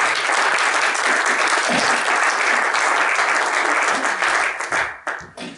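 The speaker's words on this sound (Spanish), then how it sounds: "Les pido un aplauso para ellos, por favor." An audience at a literary talk applauds loudly and steadily for several seconds, the clapping thinning out and tapering off at the end.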